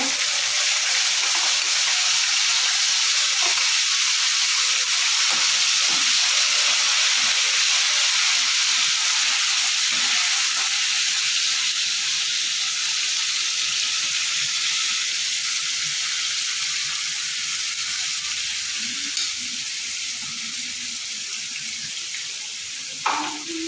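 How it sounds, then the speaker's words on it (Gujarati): Spices tempering in hot oil for a chickpea curry give a loud, steady hiss and sizzle that lasts throughout and eases off slightly near the end. "ચાલો વઘાર થઈ રહ્યો છે"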